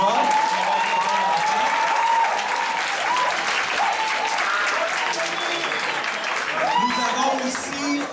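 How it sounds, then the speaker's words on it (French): A crowd of students and staff at a head-shaving fundraiser applauds warmly, sustained dense clapping with cheering voices mixed in, full and continuous throughout. "On peut les applaudir déjà."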